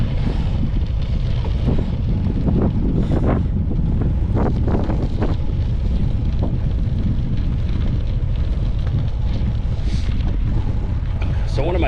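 Steady wind roar buffets the microphone while a rider pedals a bicycle on a training ride, a dense low rumble running continuously and loud throughout with occasional gusty flutters.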